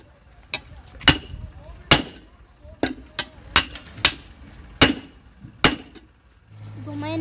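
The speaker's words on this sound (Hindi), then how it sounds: "और इसको चोट लगाएंगे ऊपर से हथौड़ी को इस तरह से" A hammer strikes during a tempo tyre puncture repair, about ten sharp, ringing metallic blows at an uneven rhythm, loud and close, with a low hum rising at the end.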